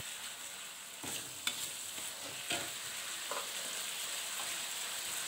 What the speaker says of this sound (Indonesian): Ini kita aduk-aduk dulu sampai bumbunya itu benar-benar merata